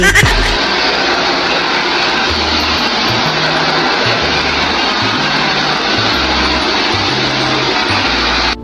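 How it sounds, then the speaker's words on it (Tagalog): A Deerma DX115C household vacuum cleaner runs loud and steady on a sofa, with a broad whooshing roar and a low, shifting hum as the nozzle moves, continuous throughout with no talk. "Tinaray ko nga rin siya dito sa aming sofa, yung vacuum, kung talaga bang nakakahigop siya ng mga alikabok"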